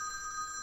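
A telephone rings with a steady electronic tone, heard briefly and clearly indoors with no one speaking over it.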